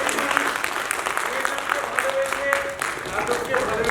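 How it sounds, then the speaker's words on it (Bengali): A theatre audience in Haldia gives steady, loud applause that runs throughout, with a voice talking over the clapping. "জোরে একটা হাত তালি দিন।"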